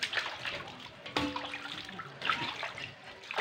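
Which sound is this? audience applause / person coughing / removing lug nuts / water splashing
water splashing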